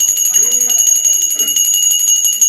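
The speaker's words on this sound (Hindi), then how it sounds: "घंटी थी मेरे यहाँ पर एक।" A steady, bright metallic ringing from a bell at a home Satyanarayan puja continues without a break, loud and close, while a voice chants softly beneath it.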